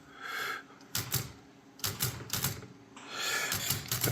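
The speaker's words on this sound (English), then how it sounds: "So as you type, each time you move the carriage," A Royal Standard typewriter clacks through a run of sharp, close keystrokes and carriage movements, with the ribbon spool advancing as the carriage shifts, loud and clear with short pauses between bursts.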